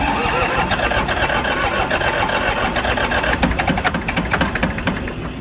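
A restored engine, a machine called the BEAST, cranks and starts up, giving a loud, steady mechanical roar throughout with a slightly uneven rhythm, close by and without speech.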